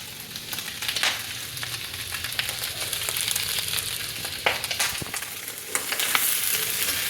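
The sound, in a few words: onion, ginger and garlic frying for pork curry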